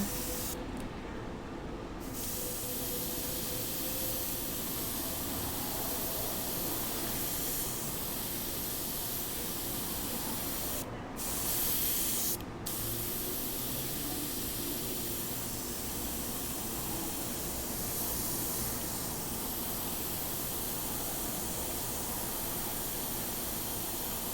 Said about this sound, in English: What if you were to spray like a blender into it instead?